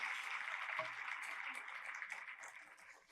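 An audience at an International Women's Day 2026 event claps together in a dense, even burst of applause that gradually tapers off over a few seconds.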